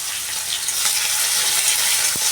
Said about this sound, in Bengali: আমি এবার এখানে পেঁয়াজ দিয়ে দেবো ভাজবার জন্য।